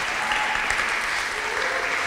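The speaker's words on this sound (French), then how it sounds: "si vous voulez bien aussi juste l'applaudir" A seated audience at an event applauds steadily in a short, even burst of dense clapping at moderate level, with no voices over it.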